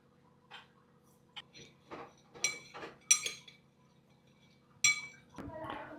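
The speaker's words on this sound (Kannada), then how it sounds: "150 ml ವಾಟರ್ಗೆ 1 ಸ್ಪೂನ್ ಶುಗರ್ ಹಾಕಿ ಮಿಕ್ಸ್ ಮಾಡಿದ್ದೀನಿ ಚೆನ್ನಾಗಿ, ಶುಗರು ಮತ್ತು ವಾಟರು" Metal spoon clinking against a glass while stirring sugar into 150 ml of warm water; scattered light taps and clinks, quiet and close, with a brief voice.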